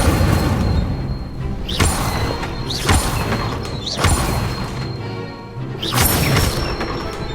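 Incendio fire spells cast in Hogwarts Legacy, heard as four loud whooshing blasts spaced about a second apart, each flaring up sharply before fading back into a low rumbling background.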